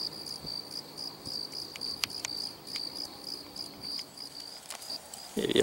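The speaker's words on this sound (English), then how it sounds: "Let's hear all the crickets and birds going crazy right now." Crickets chirp steadily in a high, pulsing chorus outdoors in a California vineyard, with a few sharp clicks and soft rustles; a louder noise breaks in at the very end.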